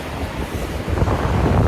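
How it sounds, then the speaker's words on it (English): Strong wind during a snowstorm in California, a steady broadband roar buffeting the microphone, loud and close with no voices. "It's pretty windy today too."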